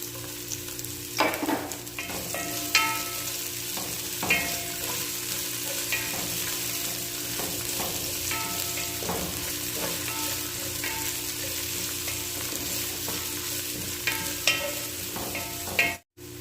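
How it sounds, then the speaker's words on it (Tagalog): Onion, garlic and ginger sauté in a pan for chicken tinola, giving a steady sizzle with intermittent scraping and stirring clatter throughout, no talking. "gisang-gisa na mga ka-recipe ang ating sibuyas, bawang at luya"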